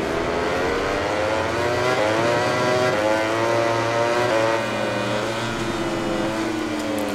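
A high-revving Ducati GP20 MotoGP racing motorcycle engine in the MotoGP 20 video game drones steadily and loudly, its pitch climbing and dipping through gear changes, with a low rumble underneath throughout.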